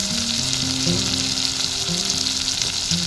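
Green chilli going into a fish and taro curry frying in the pan: a loud, dense, continuous sizzle holding steady for a few seconds, close and alone without voices.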